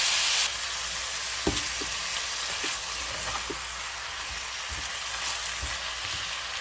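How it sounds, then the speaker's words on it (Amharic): Chopped chicken frying with onion in a pan for chicken tibs: a steady, close sizzle runs throughout, with a few light clicks and taps of stirring against the pan. "የከተፍኩትን የዶሮ ስጋ ጨምራለሁ። ከሽንኩርቱ ጋር አብሮ ጥብስ አደርገዋለሁ።"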